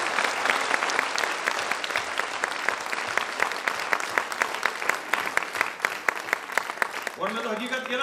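An audience at a Hindi poetry recital (kavi sammelan) claps loudly and steadily throughout. A voice begins speaking just at the end.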